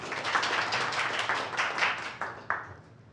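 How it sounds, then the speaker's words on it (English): Scattered clapping from a modest audience in a startup workshop room, uneven handclaps rising and tapering off, fairly quiet and without talk. "Okay, everybody, round of applause."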